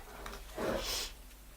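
A single brief, breathy hay-fever sniffle through the nose, close and fairly soft, standing out from quiet background.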